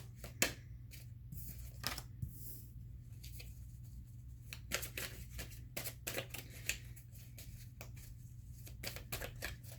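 Tarot cards are shuffled and drawn close by in quiet, irregular papery flicks, snaps and soft slaps over a steady low room hum.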